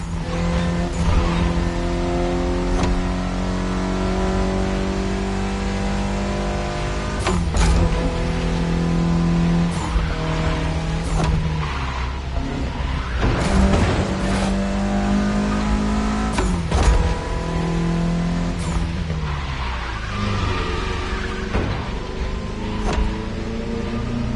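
Mitsubishi Evo X driven around a lap, with a continuous engine drone under shifting pitch as it accelerates and lifts, plus occasional mechanical creaks and clicks from inside the cabin.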